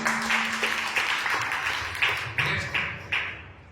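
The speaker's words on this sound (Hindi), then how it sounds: "इसलिए एक जोरदार ताली दीजिए।" Clapping from an audience at a motivational business seminar, a steady crowd applause with recurring louder bursts, moderately loud throughout with no talking over it.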